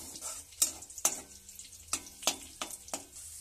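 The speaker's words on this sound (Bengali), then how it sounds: "এটা কাজু কিশমিশটা দিয়ে ভেজে নিচ্ছি।" Cashews and raisins fry in hot white oil for fried rice, a quiet sizzle broken by several sharp clicks and taps of a spoon against the pan at irregular intervals.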